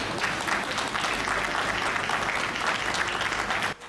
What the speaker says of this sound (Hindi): मैं चाहता हूं उनके सम्मान में जोरदार तालियां हो।